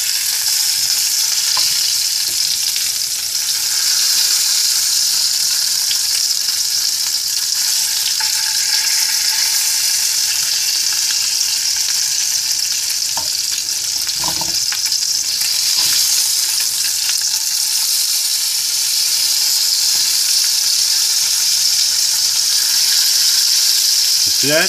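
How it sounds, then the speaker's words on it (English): Bacon fries in a pan with a loud, steady, crackling sizzle that runs throughout, with brief faint clicks as kitchen tongs turn the strips. "We're going to flip our bacon right now."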